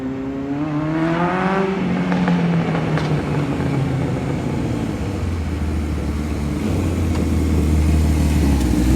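A 1978 Kawasaki KZ1000 LTD motorcycle accelerates up a short driveway, its engine note climbing and dropping as it shifts through about four gears, loud and steady throughout.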